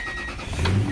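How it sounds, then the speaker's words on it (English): A Toyota Tundra pickup's engine turns over and catches, swelling into a low rumble near the end after a quieter stretch of cabin noise. "Let's go start the engine and put it on drive"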